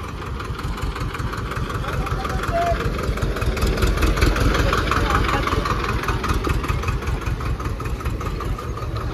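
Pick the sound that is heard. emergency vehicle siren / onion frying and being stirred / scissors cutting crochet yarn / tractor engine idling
tractor engine idling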